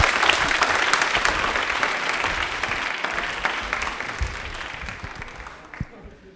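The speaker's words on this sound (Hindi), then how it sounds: "तालियां बजा दीजिए एक बार जोरदार ताली" A studio audience on an Indian Railways quiz show gives a sustained round of clapping for a contestant, steady and full at first, then thinning out and tapering off toward the end.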